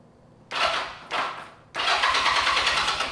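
A 1981 Honda CM200T TwinStar motorcycle cranks on its starter button in three close, loud bursts: two short churning pulls, then a longer sustained crank with a rapid, even rhythm. No one speaks.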